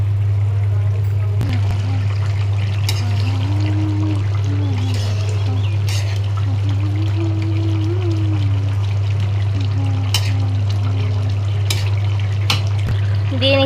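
Fish pieces simmer in a curry gravy in a pan, making a continuous bubbling, sizzling wash over a strong steady low hum, with occasional faint clinks and stirs and no speech.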